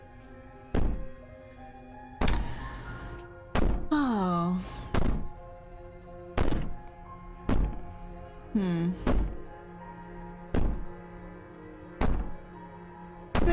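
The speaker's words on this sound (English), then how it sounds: "Maybe the banging and wailing will stop if you just don't pay attention to it." Heavy banging on a door in the video game Slay the Princess: loud, close thuds repeat at irregular intervals, with a wailing voice rising between some blows and a brief exclamation from a person.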